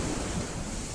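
Ocean waves breaking and foaming along a beach shore: a continuous, broad rushing wash of surf with some wind noise, steady and fairly close, with no voices.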